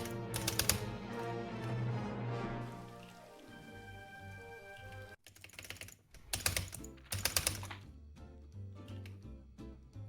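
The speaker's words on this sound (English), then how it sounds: "So Neil, that is pulse swings on keyboard in a nutshell. Yeah, I can hear the lovely clacking and clicking" A computer keyboard clacks and clicks in rapid, uneven bursts of typing, close and clear, pausing briefly midway before resuming in louder clusters.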